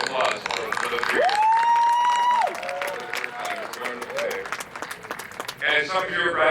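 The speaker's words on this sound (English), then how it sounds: "really a round of applause for the three" A graduation ceremony crowd claps in a sustained round of applause with a rising whistle-like cheer, loud and close, and voices mixed in.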